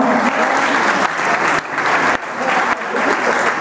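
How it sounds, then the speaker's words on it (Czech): A crowd at a junior Latin dance competition applauds loudly and continuously, thick clapping that swells and dips in waves. "No a teď můžete zůstat v tom potlesku"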